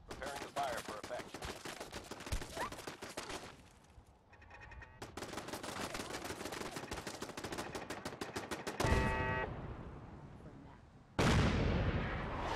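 Artillery barrage in the video game Fallout 4: dense rapid volleys of firing and impacts crackle on and off, pausing briefly before more bursts and a final loud blast.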